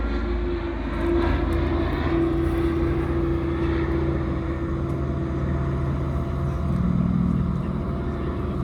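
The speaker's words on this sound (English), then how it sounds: "as you can see straight out in front of us to the west, we have the Wirraway coming in, flown by Glenn Collins." A CAC Wirraway, a WWII-era propeller aircraft, approaches at an airshow on the Central Coast, its engine drone steady and fairly loud throughout, swelling slightly as it draws nearer.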